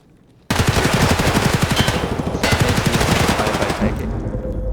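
Sustained automatic gunfire from a gun in the video game Escape From Tarkov, a loud, rapid, steady stream of shots lasting several seconds, with a brief break partway through.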